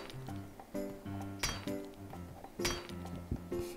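Repeated metallic clinks ring out as a tool strikes a locked container in 7 Days to Die, sharp impacts spaced unevenly over a droning tonal hum.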